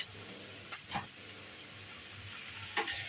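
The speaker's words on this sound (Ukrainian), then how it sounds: "А поки цибуля з моркою пасірується" Onion and carrot sauté softly in a pan, a faint, steady sizzle with a few brief stirring scrapes near the start and again near the end.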